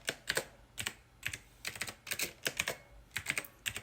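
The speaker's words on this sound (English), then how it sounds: "Sorry for the keyboard noise." Steady typing on a computer keyboard, quick clusters of clicky keystrokes in an uneven rhythm, close by and fairly soft.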